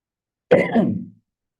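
A single short, close cough or throat-clear, set off by a smell from the kitchen, breaks a quiet room.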